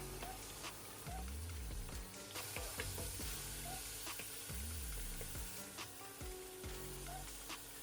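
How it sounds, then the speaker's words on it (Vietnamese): Continuous crackling sizzle of chicken frying with onion and garlic in a hot pan, with occasional stirring scrapes and clatters, close and steady throughout. "Mình sẽ phi thơm hành tỏi trước, sau đó thì sẽ cho gà vào."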